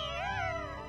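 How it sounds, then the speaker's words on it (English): A cat in an anime scene lets out a drawn-out, wavering meow, clear and moderately loud for about a second with no talk over it. "You watch those cats have sex, Otto?"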